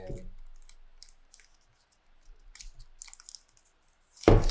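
A Zendure SuperTank Pro power bank is pulled from its plastic wrapping, giving sparse, close crinkles and clicks with short quiet gaps and a louder rustle at the end.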